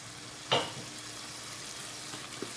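Minced garlic and chicken sizzle steadily in a hot pan, with one sharp scrape of a spoon early on and a couple of lighter taps later, close and without speech.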